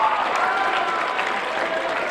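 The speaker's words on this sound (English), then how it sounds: "Give them a round of applause." Audience applause from a crowd at a motivational talk, a steady dense wash of clapping that holds at an even level for about two seconds with no voices over it.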